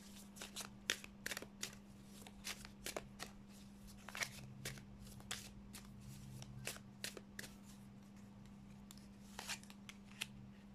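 Tarot cards are shuffled by hand in irregular, crisp bursts of riffling and slapping over a steady low electrical hum, quiet and close, with no talking.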